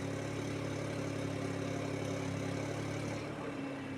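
Steady idle of a Volkswagen Virtus TSI automatic at 1000 rpm, an even, continuous engine hum heard from nearby with no change in pitch and no talk.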